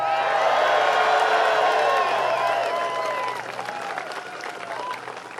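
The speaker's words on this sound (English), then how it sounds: "What a great crowd we got out here." Large rally crowd applauding and cheering at a presidential campaign announcement, dense sustained clapping with whoops, loud throughout and easing slightly toward the end, with a voice faintly under it.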